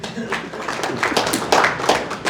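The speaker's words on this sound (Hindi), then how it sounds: "आपके लिए ताली बजाइए।" Indoor audience claps briefly, a quick patter of hand claps rising and falling for a couple of seconds.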